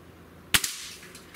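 A single sharp crack of an air rifle firing a 14.66 grain field target pellet, followed by a faint secondary snap, loud and close against quiet room noise.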